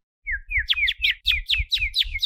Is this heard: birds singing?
yes